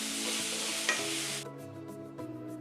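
Green banana and potato pieces fry in a pan as they are stirred, a loud sizzle that cuts off abruptly midway, leaving quieter scraping taps and a low hum.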